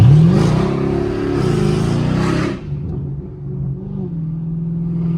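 A 500hp Camaro SS engine revs hard while kicking up smoke, a loud close roar for about two and a half seconds that drops to a steady low idle rumble.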